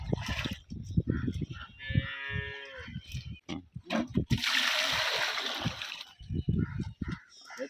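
Cattle kept the traditional way on a small village farm in Sengalipalayam low out in a drawn, tonal moo, with splashing, clattering and short noisy bursts around it, mostly near and fairly loud.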